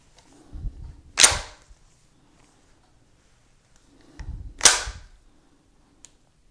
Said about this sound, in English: This is an awful fun gun to shoot